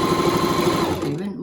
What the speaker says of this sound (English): Now you sew this side.